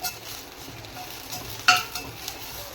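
Onions, bay leaf, cinnamon, cardamom and cloves frying in a pan for butter chicken, with a soft steady sizzle, a sharp metallic scrape of the stirring spoon midway and a few lighter clicks after.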